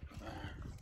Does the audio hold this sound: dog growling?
yes